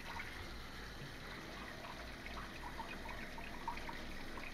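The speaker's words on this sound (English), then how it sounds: "I'll simply rinse it off with water" Running tap water at a sink rinsing glue off a 3D printer's glass bed, a steady faint splashing trickle with no talking.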